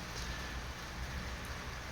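Light April morning rain in Medjugorje falls as a steady, soft, even patter with no voices.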